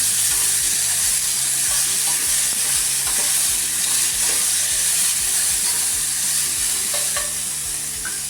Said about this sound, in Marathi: वाटाणे चांगले काळे डाग येईपर्यंत भाजून घ्यायचे.